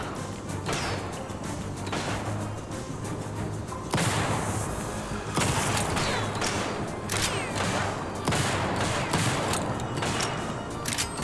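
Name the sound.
shotgun fire in video game TimeSplitters Rewind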